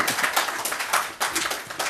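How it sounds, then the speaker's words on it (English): An audience at a swearing-in ceremony for the Administrator of the District Assemblies Common Fund with President John Mahama breaks into applause, a fairly loud wash of many hands clapping in uneven waves for about two seconds. "Another applause is deserved here."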